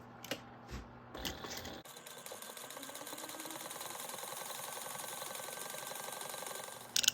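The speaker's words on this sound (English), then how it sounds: "we're just going to baste the pocket down on the bottom so you can lengthen your stitch" A home sewing machine bastes a pocket down with a lengthened stitch. A few clicks and handling sounds come first, then a steady mechanical whir runs for several seconds at moderate, fairly close volume.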